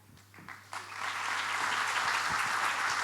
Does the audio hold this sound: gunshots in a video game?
no